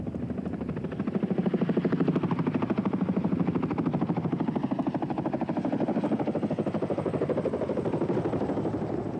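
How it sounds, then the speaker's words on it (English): Military helicopters in flight during the 1991 Desert Storm ground assault, including larger Chinooks carrying fuel and vehicles, produce a loud, continuous rotor thrum with steady rapid blade chopping. "the larger Chinook helicopters carrying additional fuel"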